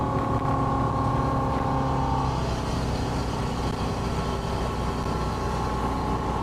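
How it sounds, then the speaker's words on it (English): Four Winns SL 262 motorboat with a big block engine running steadily on open water, a loud continuous engine drone and hull rumble with water rush throughout and no talk. "The boat runs absolutely solid."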